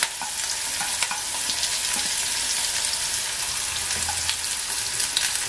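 Onion, carrot and green chili fry in a hot pan for a sago (tapioca pearl) dish, giving a steady, dense sizzle with occasional sharper crackles and stirring scrapes throughout, close and even in loudness.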